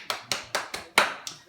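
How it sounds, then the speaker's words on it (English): A handful of sharp, evenly spaced hand claps from a small group at a school news broadcast, about six distinct claps in quick rhythm, close and crisp. "Let's give them a big round of applause."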